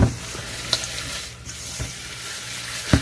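Whisking brown butter and sugar together in a bowl, a steady soft scraping hiss with a few sharper clicks of the whisk against the bowl, close and alone with no talking.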